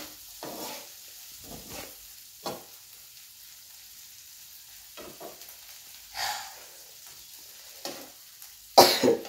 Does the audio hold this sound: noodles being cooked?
yes